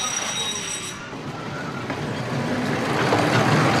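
Miniature railway train in a children's park, rolling loudly nearby with a steady rumble and squealing wheels that build toward the end, and a faint voice mixed in.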